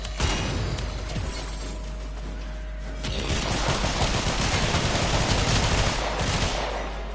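Rapid repeated blasts from the Redeemer shotgun gunblade in a video game, pellet shots merging into a dense crackling barrage that grows louder after a quieter opening, with no talk.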